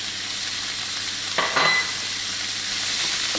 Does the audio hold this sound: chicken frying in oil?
yes